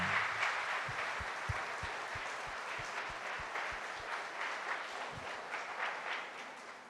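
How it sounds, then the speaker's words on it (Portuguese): A church audience claps steadily for Frei Galvão, a dense wash of applause filling the whole clip with a few sharper low thumps standing out. "Salva de palmas ao Frei Galvão"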